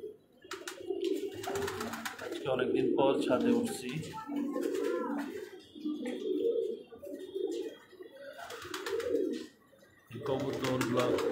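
Pigeons released on a rooftop coo in low, rolling bursts near the listener, while someone speaks intermittently over them.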